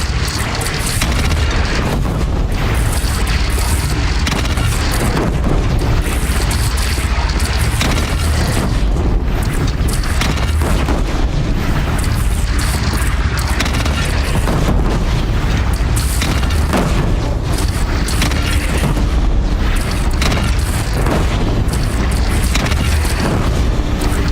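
Cannon fire and explosions in the video game Horizon Zero Dawn during a battle against a bandit clan: a continuous loud barrage of booming blasts and rumbling detonations with no pauses.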